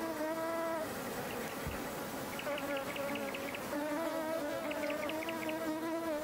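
Honeybees buzzing in mid-air among flowers where a small mantid waits between thorns: a steady, close, droning hum with wavering pitch as the bees hover and circle, continuous throughout.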